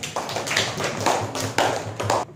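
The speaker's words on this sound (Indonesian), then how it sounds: "Tepuk tangannya untuk kelompok 1." A short burst of applause from a small group of students in a classroom, uneven claps rising and falling for a couple of seconds.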